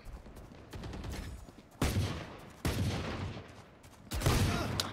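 Gunfire in the video game Valorant comes as bursts of sharp shots over a low game rumble, with a few louder volleys at regular intervals.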